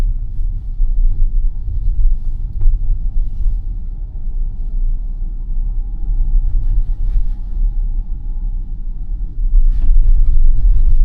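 A Tesla on Full Self-Driving rolls through Queens streets and merges into traffic, heard from inside as a steady low road rumble and tire drone, fairly loud and continuous, with no talk.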